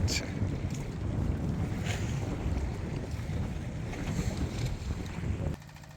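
Huge waves and strong wind batter a fishing boat at sea off Saint Martin's Island, a constant loud roar of gusts and rushing water that drops off abruptly near the end.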